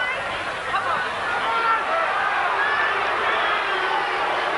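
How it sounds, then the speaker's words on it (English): A boxing crowd at the Mike Tyson vs James Smith fight jeers, a broad roar of booing and babble filling the arena, steady and dense, with a commentator talking over it. "So the crowd now jeering Smith"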